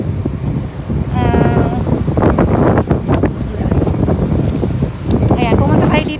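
Strong wind buffets the microphone outdoors in a steady, loud rush that carries through the whole stretch, while a person talks over it.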